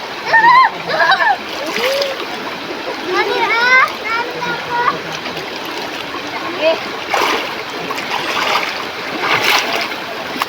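Water splashing from people bathing in a deep spot of a river at Little Baguio in the Philippines, with irregular close splashes mixed with flowing water, under children's voices and chatter throughout.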